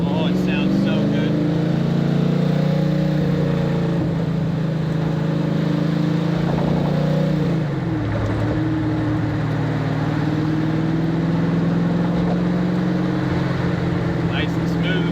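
Engine of a 1965 Carroll Shelby Cobra Factory Five replica cruising on a highway, a steady loud in-cabin drone with a brief dip and change in pitch near the middle as it shifts, continuous throughout.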